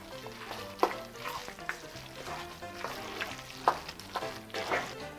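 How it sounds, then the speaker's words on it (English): Food being stirred and mixed in a hot pan, with a scraping utensil and light sizzle of frying; repeated irregular strokes and clinks over a continuous frying hiss, close and moderately loud, no talking. "you pretty much just stir it up and mix it well"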